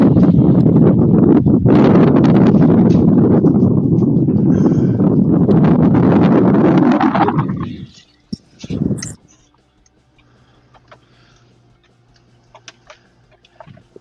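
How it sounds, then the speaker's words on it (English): Wind gusts batter the microphone at an outdoor fishing tournament, a heavy rumbling roar for about seven seconds that then cuts out abruptly, leaving faint scattered noises. "They've got some gusts coming through there."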